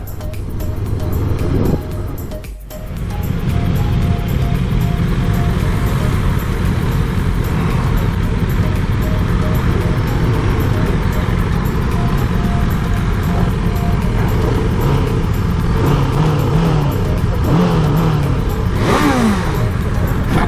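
A Macbor Montana XR5, a 500 cc twin-cylinder enduro-style trail motorcycle, idles and revs near the listener under continuous engine and road noise, with a sharp knock early on and rising rev sweeps toward the end.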